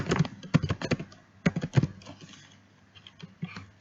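Short irregular bursts of typing on a computer keyboard, crisp close-up key clicks in quick clusters with brief pauses between words, no talk over them.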